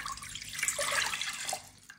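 Water pours steadily into a cooking pot, a continuous splashing stream lasting about two seconds and tapering off near the end, close and fairly loud with no voices.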